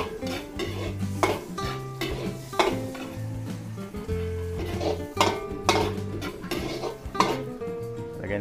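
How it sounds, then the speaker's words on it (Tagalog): Garlic sizzles in a pan while a utensil stirs and scrapes against the metal in steady repeated strokes, close and loud, with music playing underneath. "Luto-lutuin lang po muna natin yung ating bawang"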